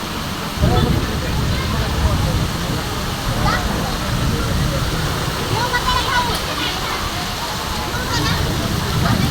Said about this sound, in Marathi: इथं खूपच पाऊस पडायलाय.